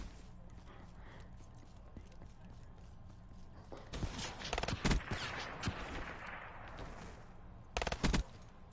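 Borderlands 3 shotgun fire: a few sharp, loud blasts stand out in two clusters against a quiet background, with a voice speaking around them.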